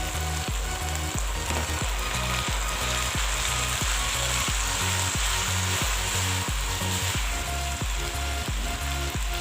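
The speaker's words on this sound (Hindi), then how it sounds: "इसको भी मैं 3 से 4 मिनट के लिए हाई फ्लेम पे फ्राई कर लूँगी, अच्छे तरीके से मिक्स कर लेती हूँ।" Vegetables and spaghetti fry on a high flame, giving a loud, continuous sizzle with regular low knocks of stirring running steadily throughout, with no voices.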